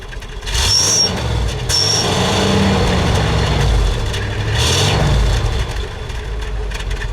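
Engine of a 1966 Buick Wildcat revved, swelling into two loud, throaty surges around one and five seconds before settling back to a deep idle, close by with no talk.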